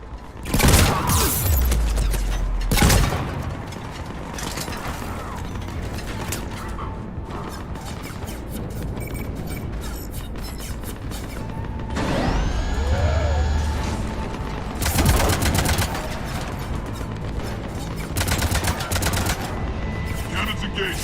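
Heavy ship cannons on a spacecraft in Mass Effect 3 clank and whir as they are armed, then fire in loud booming salvos amid mechanical hums and rumbling sci-fi effects, with a voice speaking briefly.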